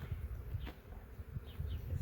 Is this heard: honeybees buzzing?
yes